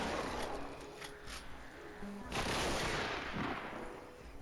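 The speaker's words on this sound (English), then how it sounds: "Double barrel shotgun at these levels is astounding." Double barrel shotgun fire in a video game, a few loud blasts and a sustained burst of gunfire against a noisy game background, with some speech faintly present.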